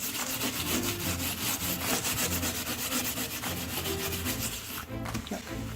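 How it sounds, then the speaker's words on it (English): An oven interior is scrubbed clean by hand after natural oven cleaner is applied, giving a continuous close rhythmic rubbing and scouring with quick back-and-forth strokes and no talk. "you guys can watch while I scrub my oven"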